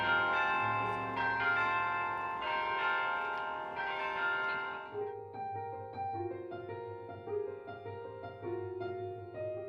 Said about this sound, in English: The chiming of the bells will have a special place in our collective memory.